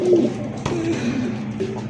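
Pigeons cooing at a pigeon market, soft throaty coos repeating close by over a busy background murmur, with no clear talk.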